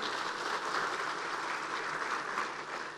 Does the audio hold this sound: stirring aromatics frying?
no